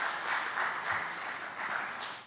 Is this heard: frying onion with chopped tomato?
no